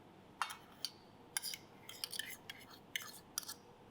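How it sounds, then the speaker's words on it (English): Peeled potatoes are mashed with butter in a bowl, with a series of faint, irregular clinks and soft squishy knocks as the utensil strikes the bowl. The sounds are quiet and close, with no talking. "then we start to smash it. And we put in butter"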